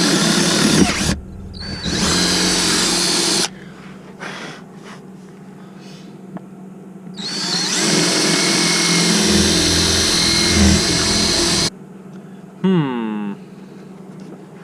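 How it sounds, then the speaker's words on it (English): A power drill bores a hole into a wooden RV sink cover, whirring loudly in two long sustained runs separated by quieter pauses, then a brief whine as the bit winds down, close up with no speech. "Drilling this hole."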